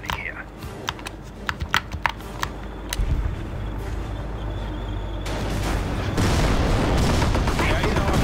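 Gunfire and shelling strike a base during a World War II battle in Company of Heroes: Tales of Valor, with sharp isolated shots early giving way to a dense, loud roar of continuous fire and explosions.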